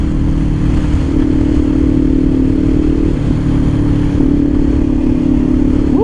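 A Kawasaki Ninja 500 SE motorcycle rides along an expressway with a loud, steady engine drone and a constant roar of wind rushing past, unbroken for the whole stretch, with no voices.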